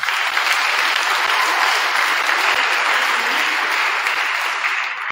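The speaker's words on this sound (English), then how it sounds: "So give these athletes a round of applause." An audience at an athletic awards event applauds loudly and continuously, a dense wash of clapping with no pauses.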